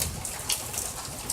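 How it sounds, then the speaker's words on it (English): Rain falling steadily during a Central Florida thunderstorm, a continuous close hiss of drops and water without any clear thunder. "We have a great nature's show with lots of thunder and lightning and rain."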